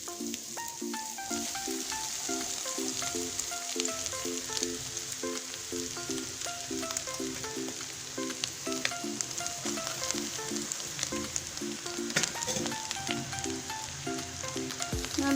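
Egg fried rice sizzles loudly in a hot pan while it is stirred, a dense continuous frying hiss with scattered scraping clicks, close and steady, with a tonal background pattern running underneath.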